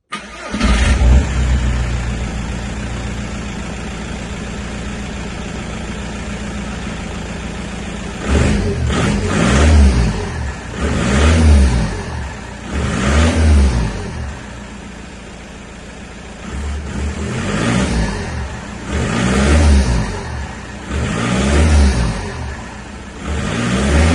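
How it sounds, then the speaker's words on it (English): A 1.9 TDI diesel car engine with an open air filter cranks and fires up, settles into a steady idle, then revs repeatedly in rising and falling surges, loud and close. "I'll do some first start as well as some revs and loaded revs as well"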